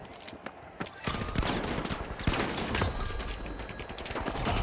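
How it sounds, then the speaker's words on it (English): Gunfire in The Finals, a video game, including a Model 1887 shotgun: a dense, continuous exchange of shots and impacts stays loud and close throughout, with sharp transient bursts layered over busy game ambience. "Who the f*** is shooting at you?"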